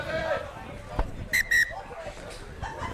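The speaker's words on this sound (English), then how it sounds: "Referee blows his whistle." A rugby referee's whistle at a reserve grade match gives two short, sharp blasts close together, with crowd chatter and a quieter earlier tweet beneath.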